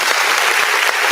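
Dense, steady applause from a group, loud and close, filling the whole short burst without pause.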